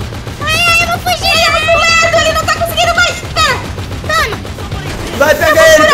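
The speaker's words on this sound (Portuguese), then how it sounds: "Eu vou meter bala nele! Mete bala nele!" Rapid bursts of gunfire in GTA 5 aimed at the Green Goblin, loud and continuous under excited, overlapping voices and game music.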